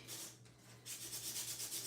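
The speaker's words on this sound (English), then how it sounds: "when you're sanding, you can see that white core coming through" Steady abrasive rubbing of sandpaper on paper edges, close up, in repeated back-and-forth strokes that grow brisker after a short pause.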